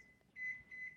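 A kitchen timer gives two short, high electronic beeps as it is set. The beeps are quiet and thin against a soft room background.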